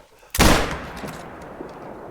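A single loud hunting-rifle shot in theHunter: Call of the Wild, a sharp close blast followed by a long rolling echo that fades over about two seconds.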